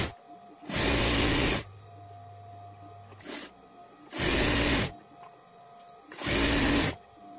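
A sewing machine stitches the folded strips of a katori blouse in three loud, steady bursts of about a second each, separated by short quiet pauses.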